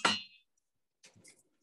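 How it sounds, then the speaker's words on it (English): A knife strikes a cutting board while chopping about three garlic cloves for a Thai green curry stir fry, giving one sharp clang and then a few softer taps. "So we're going to chop our garlic."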